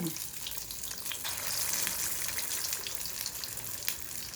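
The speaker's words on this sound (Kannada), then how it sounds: "ಕರಿಯೋದು ಅದೆಷ್ಟು ಹಿಡಿಸುತ್ತೋ ಅಷ್ಟು" Sandige rice fritters deep-frying in hot oil give a steady, dense sizzle that swells slightly midway, with faint bubbling and no talk.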